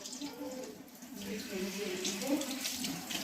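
Water splashed onto a face while washing the eyes at a sink, a steady watery rush over a running tap, with voices talking throughout.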